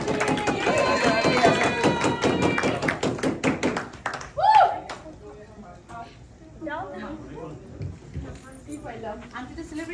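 A small audience claps for the first-place winner at a Bangladeshi students' Pohela Boishakh and Eid celebration. The claps are quick and close, then give way to scattered taps and voices talking.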